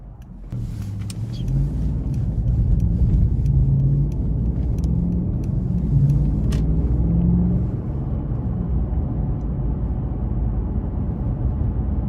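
A 2014 Mercedes-Benz S550 4MATIC cruising along, heard from inside the cabin as a steady low engine and road rumble with a few faint high clicks, holding even for the whole stretch.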